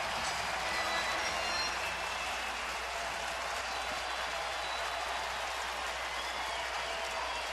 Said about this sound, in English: Now the crowd starting to make some noise.